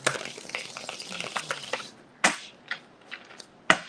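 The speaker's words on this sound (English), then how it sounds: "This one's shuffling." Tarot card deck being shuffled up close, a dense run of papery riffling and flicking for about two seconds, followed by a few separate sharp card snaps and taps.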